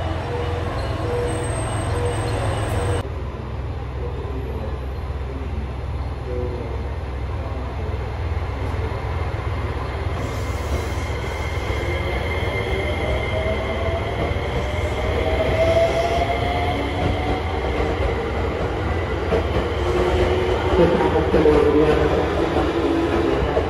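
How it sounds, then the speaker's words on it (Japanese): An out-of-service train rumbles and rolls out of JR Kyoto Station with low steady rail noise and faint wheel squeals building gradually, heard from the platform. "この回送電車が出ると思いますね"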